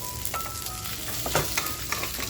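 Hilsa fish fries in a pan, a dense, close sizzle with light crackles and a few stirring scrapes running throughout, with no talking.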